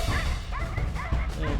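Hunting dogs bay and yelp at a cornered wild boar tusker near blackberry bushes, several quick barks in an uneven rhythm, fairly close and loud, with a higher whining yip mixed in.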